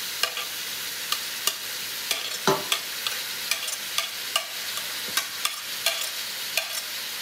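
Vegetables sizzle in a hot pot for Memon-style yakhni pulao with beef as a spoon stirs them, giving steady quiet frying hiss broken by regular sharp scrapes and clinks of the stirring.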